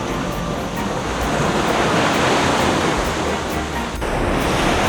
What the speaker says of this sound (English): The sound of cicadas, all the insects and birds mixing in with the ocean right here